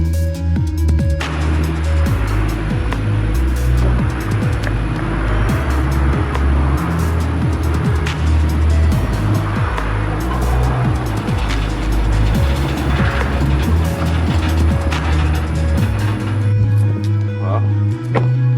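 A loaded 1956 Ford F-250 truck drives on the road, its engine and road rumble steady and loud throughout, with wind and passing noise layered on top.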